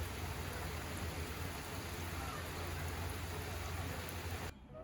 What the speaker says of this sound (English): can you see the rain? Pretty insane. It's going really strong out there